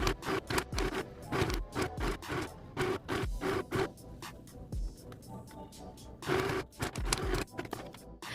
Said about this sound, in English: we're going to sew a straight stitch on this edge over here after our elastic on this one.